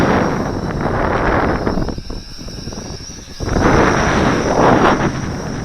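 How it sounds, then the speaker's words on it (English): Strong gusting wind roars across the microphone outdoors while an MJX X400 drone is flown, a loud continuous rush that dips briefly midway and then swells back; no voices are heard. "this is very capable and very strong wind"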